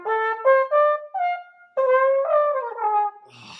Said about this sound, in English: And then I come back down the scale so I go up to the double F and come back down very, very quickly.